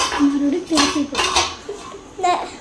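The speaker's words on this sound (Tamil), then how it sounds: "இப்போ நம்ம ஒரு மூடி வச்சு மூடிச்சிடலாம்" A lid set over a pan while cooking a potato and egg omelette: several close metallic clanks and rattles of lid and cookware, loud and clustered, with a voice briefly heard alongside.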